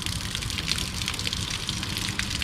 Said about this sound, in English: You turn the water down even more, then and that seems like plenty of water